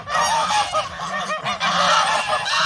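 A flock of grey farmyard geese honk and squabble close by, loud overlapping nasal calls in rapid bursts with only brief dips between them.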